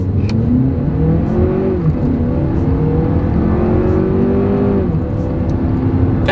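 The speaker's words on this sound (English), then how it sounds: "let's see how quickly the RX 350 here can get us up to speed" A 2024 Lexus RX 350 with a turbocharged four-cylinder accelerates hard down a straightaway, its engine note rising steadily through the gears with brief dips at shifts, loud and close from inside the cabin.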